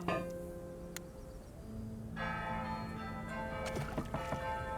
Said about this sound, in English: We've got bell towers going off